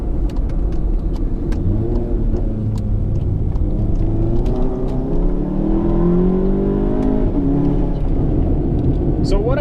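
A Volkswagen MK7 GTI running a Stratified off-the-shelf tune accelerates hard, its engine rumbling steadily and loud throughout, with rising pitch sweeps as it pulls through the gears, heard from inside the car.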